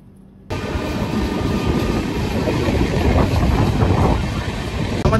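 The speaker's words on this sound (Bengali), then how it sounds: "আমাদের ট্রেন ছেড়ে দিল ধুবুলিয়া রেলওয়ে স্টেশন থেকে" A train pulls out of Dhubulia railway station on the inaugural Sairang–Kolkata Express special run: a loud, steady rolling rumble and rattle of carriages starts abruptly and holds close and even to the end.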